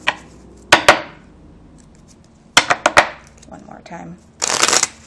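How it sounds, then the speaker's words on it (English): Playing cards ace through nine riffle-shuffled in a classroom, giving short crisp riffling bursts near the start and middle with a longer flutter at the end, separated by a person talking. "Do a little shuffling here."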